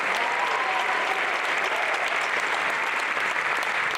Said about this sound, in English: I would be remiss if I did not begin by giving a round of applause to each and every one of my classmates.